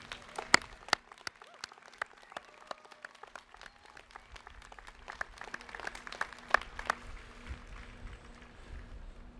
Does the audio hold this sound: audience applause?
yes